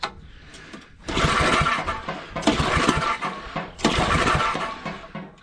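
A Roto-Hoe tiller engine sputters and pops during a start attempt, in three loud, rough bursts of rapid mechanical chugging separated by short pauses.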